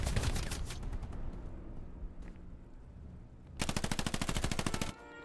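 Gunfire in the video game Hell Let Loose rattles in two loud sustained machine-gun bursts at the start and end, separated by a quieter stretch with distant shots and rumble.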